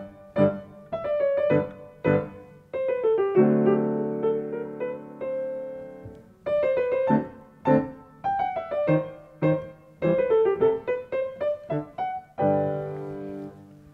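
The classical minuet from Haydn's Symphony No. 100, the Military Symphony of 1794, plays on orchestral instruments in a lively dance rhythm with short phrases and held notes, with no talking.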